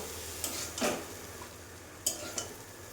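Food sizzles in a hot pan with a steady hiss, broken by a few scraping stirs and light utensil clinks.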